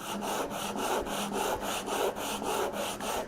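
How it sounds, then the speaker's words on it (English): Half of a wooden stave rubbed back and forth over sandpaper on a flat workbench, a steady rasping scrape repeating in even strokes about every third of a second, close and alone. "run this half of the stave over the sandpaper"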